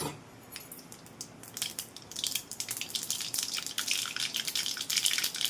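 Mustard seeds and cumin spluttering in hot oil for a garlic thecha, a close scatter of sharp crackles and pops that start sparse and grow steadily denser, with no voices.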